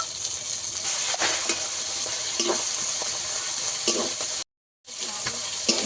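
Onion and prawns frying together in a pan in a home kitchen, a steady close sizzle with occasional stirring scrapes, cut by a brief moment of silence near the end.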